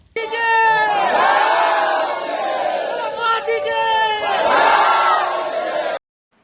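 A crowd of villagers gathers, angry over demands to demolish their village temple, and shouts loudly together with overlapping raised voices and chanting tones, close and sustained for several seconds before cutting off.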